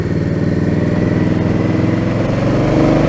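Steady, loud engine drone of an Indian Scout Bobber motorcycle being ridden, a continuous throbbing rumble that holds even throughout and swells slightly toward the end, with no voices.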